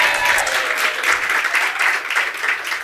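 Audience applause during a keynote speech, a loud, dense and continuous roar of clapping from a large crowd, close and unbroken for the whole stretch.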